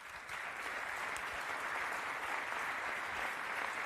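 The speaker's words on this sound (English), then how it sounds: "So a warm Maranello round of applause for the fans." A warm round of applause for Ferrari fans at a Maranello event. Dense, even crowd clapping starts almost at once and holds at a steady, full level throughout.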